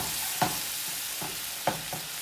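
A lemon sauce with zest for scallops is stirred in a sizzling pan, a steady soft frying hiss broken by a few quiet scraping strokes of the utensil, close by and without voices.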